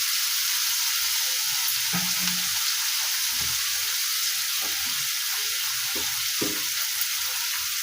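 Onion, ginger and garlic paste fries in a pan with a steady, close sizzle, broken by occasional soft scraping knocks of stirring.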